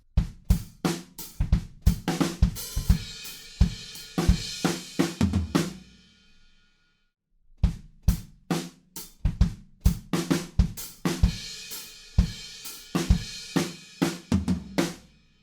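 A drum kit plays a busy fill from a song, rapid hits with ringing cymbal crashes, breaks off into a brief silence, then resumes with more hits and crashes.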